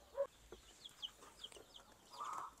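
Two-day-old chicks fresh from the hatcher give faint, high, scattered peeps, a few short chirps spread over a couple of seconds with a slightly longer trill at the end, quiet and close with no talking.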